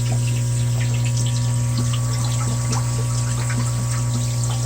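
An aquarium powerhead pump without a spout shoots water straight up in a tank, giving a steady loud hum with constant splashing and bubbling water throughout, no voices.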